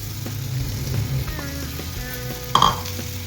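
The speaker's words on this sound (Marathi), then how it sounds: "इथं बघा आपला पॅन गरम झालेला आहे, याच्यात आपण आता पनीर घालून घेऊया." Paneer cubes fry in a hot pan for restaurant-style paneer lababdar, giving a steady soft sizzle with light stirring scrapes and a sharp clink of a utensil against the pan near the end.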